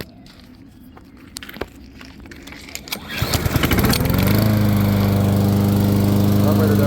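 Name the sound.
Honda engine on Troybilt TB240 push mower starting and running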